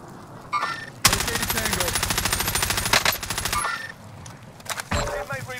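Gunfire in Call of Duty: Modern Warfare during a Gulag fight. A loud, rapid automatic burst runs for about two and a half seconds, then fades into quieter game noise, and one more sharp shot follows near the end.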